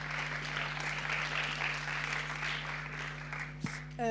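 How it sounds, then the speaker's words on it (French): Audience applause for a nominated class at a media-education award ceremony, a steady, moderately distant wash of clapping that holds evenly before a brief bump near the end. "On applaudit bien fort"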